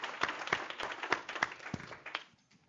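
An audience at a civil rights discussion event claps with sparse, distinct hand claps that thin out and fade to quiet within a few seconds.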